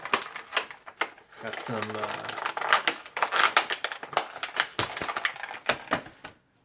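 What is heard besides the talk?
action figures being pulled off their cardboard packaging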